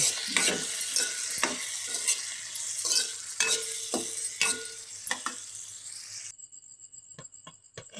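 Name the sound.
stirring food in a pan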